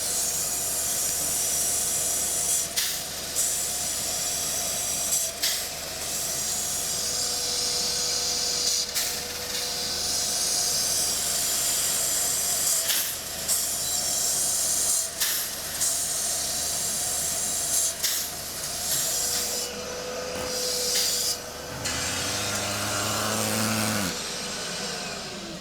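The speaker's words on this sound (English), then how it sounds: "That's your walnut firing in." An air gun blasts walnut media into an R56 John Cooper Works Mini engine with a continuous loud hiss, broken by repeated short bursts and trigger changes, and a lower mechanical hum joins near the end.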